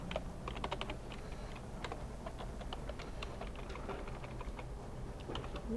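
Typing on a computer keyboard while entering an SQL query, a faint, steady patter of key clicks at close range over a quiet background hiss, with no talk.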